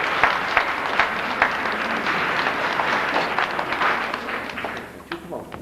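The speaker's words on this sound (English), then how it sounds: "There, give yourself a big clap." Applause from a hall full of seniors and boy scouts at a forestry social, loud sustained clapping with a few sharper claps on top, thinning out toward the end.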